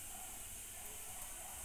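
Chana dal vadas (kadale bele vade) frying in hot oil give a steady, fairly quiet sizzling hiss with no pauses.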